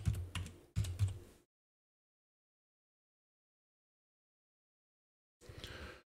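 Keyboard typing on a computer, two quick bursts of rapid clicking near and clear, a long silence, then another short burst of keystrokes.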